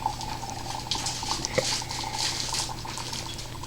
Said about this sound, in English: The chunks give more bubbles in the long run, but the little powder gives bubbles for like a split second.